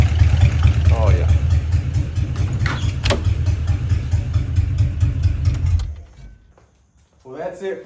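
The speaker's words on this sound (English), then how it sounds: "We got the car officially running, and idling even" A 1956 DeSoto engine running at a steady idle after its first start in 15 years, a loud low rumble that drops out near the end, with a few other sounds over it.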